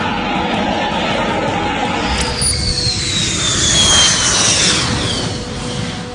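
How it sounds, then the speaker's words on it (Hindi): A fighter jet flies over a road, a loud roaring engine that builds to a peak and then trails off, its whine sweeping downward. "सड़क पर उतरे फाइटर प्लेन।"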